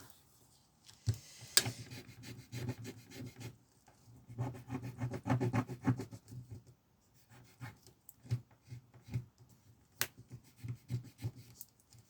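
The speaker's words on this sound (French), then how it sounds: "les pastilles, elles sont dures à gratter" Fingernails scratch at hard sticker dots on a budgeting sheet, giving bursts of close, dry rasping and scraping with brief pauses in between, and no talk.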